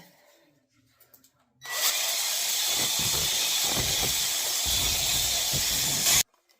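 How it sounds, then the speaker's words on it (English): An electric drill mixing paint whirs steadily at high speed for several seconds, starting and stopping abruptly, with a churning, sloshing undertone. "you definitely want to use a 2-speed drill"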